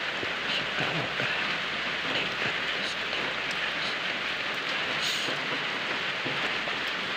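Steady rain falls in an even, unbroken hiss that stays constant throughout, with no voices.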